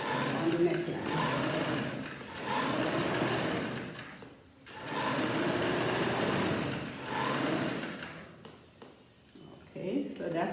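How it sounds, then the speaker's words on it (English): A sewing machine stitches a vest neckline in loud, continuous whirring bursts with short pauses between them, while a person talks over the machine. "I'm going to stitch here up because you have less stretching."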